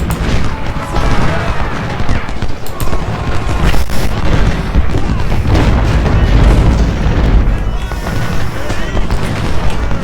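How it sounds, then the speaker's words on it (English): In the Civil War strategy game Ultimate General, artillery fire thuds as repeated heavy booms mixed with crackling gunfire in a dense, continuous battle din while someone talks over it. "So they have lots of artillery."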